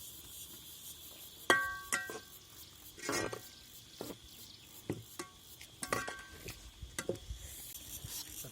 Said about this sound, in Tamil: இந்த வெஜிடபிள்ஸை மிக்ஸ் பண்ணி விட்டுட்டு